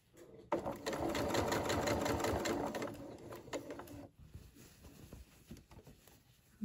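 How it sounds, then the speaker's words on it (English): A sewing machine runs a line of stitching close to a dress seam, a steady fast whirring burst for about three and a half seconds, then quieter handling and faint movement afterward. "that gives me a line of stitching very close to the seam"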